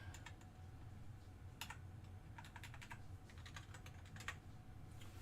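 Quiet, close typing on a computer keyboard, scattered light key taps in short runs over a steady low background hum, no voices.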